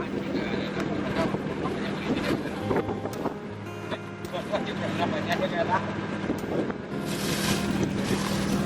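Boat easing off as it nears a wooden pier by Onrust island in clear water, with a steady engine hum, wind buffeting the microphone and water washing past, and a person talking over it.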